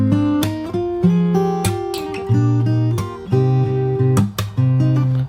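Close, loud fingerstyle acoustic guitar runs through the second chorus, a bouncing bass line and chords broken by crisp percussive slaps, including a quick double slap near the end.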